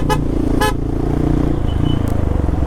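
Heavy road traffic roars close by with a constant engine drone, broken by two short horn blasts near the start and a brief higher toot later.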